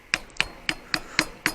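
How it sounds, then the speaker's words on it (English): Peeled lemongrass stalks get struck with a mallet in a kitchen, six sharp, evenly spaced thuds in a steady rhythm, close and clear with no talking. "I've got some lemongrass and I peeled off the outer leaves, and what I'm going to do is just hit it with a mallet or a hammer"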